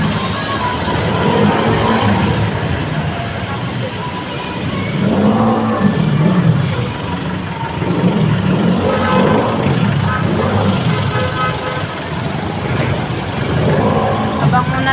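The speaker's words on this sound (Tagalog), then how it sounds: "Grabing traffic ngayon." Heavy road traffic on a busy San Juan street where people wait for a jeepney: a steady, loud rumble of engines and passing vehicles that rises and falls slightly across the whole stretch.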